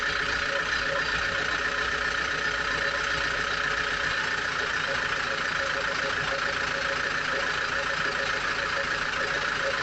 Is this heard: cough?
no